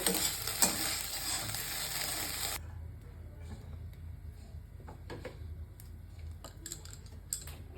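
Vegetables and boiled chow mein sizzle loudly in a hot pan with a little oil at first, then quieter frying continues with scattered scraping and clinking of stirring.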